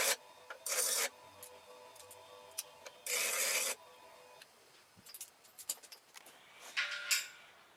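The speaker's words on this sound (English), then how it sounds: "I'm removing the zinc from all the flats on the nut so that it will weld better." Bench grinding wheel stripping zinc plating from the flats of a nut held in locking pliers, heard as several harsh broadband grinding bursts of about half a second each, separated by quieter scraping and ticking, close and with no talk.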